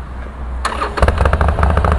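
A Harley Davidson Iron 1200 motorcycle with a custom exhaust idles, then fires up into a loud, throbbing burst of rapid lumpy pulses at close range, with no talk.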